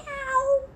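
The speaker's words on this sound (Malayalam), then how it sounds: "ക്യാറ്റ്. പൂച്ച." A single domestic cat gives one short, clear meow that rises and falls, close and alone against a quiet background.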